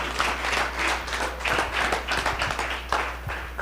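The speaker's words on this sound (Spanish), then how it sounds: "Fuerte el aplauso." An audience at a public speaking class claps steadily in a dense burst of applause that continues throughout, with no talking over it.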